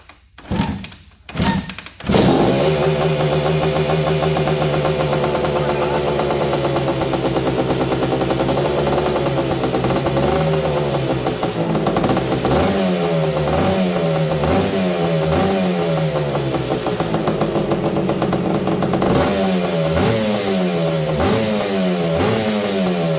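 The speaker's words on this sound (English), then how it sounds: "So let's see if this guy will fire up." A vintage Honda ATV engine, primed with carb cleaner, sputters through a couple of quick cranking tries, then catches and roars loudly up close, settling into a rough idle between repeated throttle revs.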